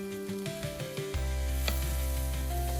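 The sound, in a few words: sausages being heated in a frying pan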